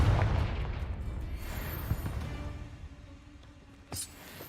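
A Confringo fire spell exploding in Hogwarts Legacy: a deep, rumbling blast that fades out over a few seconds, followed by a brief sharp burst near the end.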